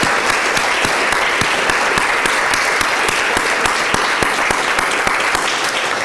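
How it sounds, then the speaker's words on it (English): Loud, close audience applause for panelists at a Hartford Foundation for Public Giving Latino Endowment Fund event, sharp individual claps standing out in a continuous, even wash from start to finish. "I want you all to join me in giving a round of applause to our panelists."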